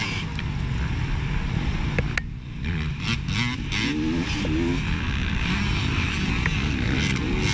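Dirt bikes race in a GNCC off-road event, a Kawasaki among them. Engines rev and drone continuously at close range with rising and falling pitch, and a voice talks over the riding.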